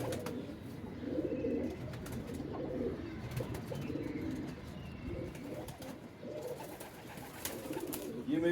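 Teddy King pigeons coo nearby in low, repeated throaty phrases, a soft rhythmic burbling that continues throughout.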